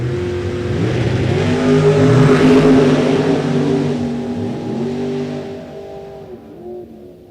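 Drag race cars, one of them a Camaro in the right lane, launch down the strip with a loud, close engine roar whose pitch climbs through the gears before easing and fading as they pull away.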